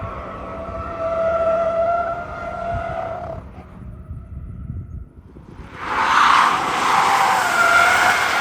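A Tesla Cybertruck in Baja Mode slides on loose ground with loud, sustained tire skidding and a droning whine that grows harsher and louder near the end.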